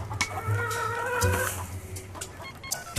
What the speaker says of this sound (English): Hey, Howie, how are the hens doing?